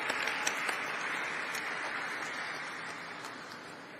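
Audience applause at a share listing event for Waaree Energies, a dense, steady clapping wash that gently fades over about four seconds, with no talk over it.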